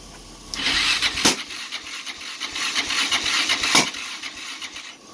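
The engine of a Yamaha Raptor 660R ATV cranks without catching, a steady whirring churn with two sharp knocks or pops partway through, loud and close with no talk.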